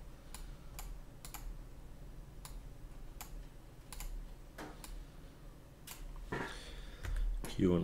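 Individual keys are pressed on a computer keyboard during 3D modelling work: a dozen or so crisp, separate clicks at an uneven pace, with a louder clatter of handling noise near the end.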